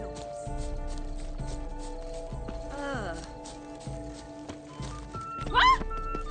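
In The Witcher 3 video game, horse hooves clip-clop in a steady rhythm under background music, and a horse briefly whinnies near the end.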